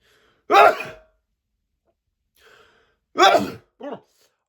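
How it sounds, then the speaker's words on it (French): A single sneeze bursts out, then a quiet breath and a short throat-clearing sound afterward, close and clear in a quiet room. "Je vais éternuer."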